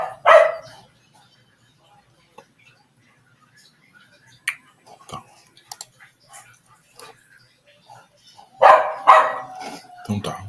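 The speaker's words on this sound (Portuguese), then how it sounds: "Tem um cachorro latindo." A dog barking next door, faint and distant, a few scattered barks under intermittent talk and close keyboard clicks, with a louder burst of voice near the end.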